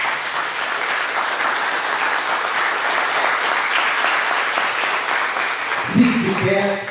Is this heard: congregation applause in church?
yes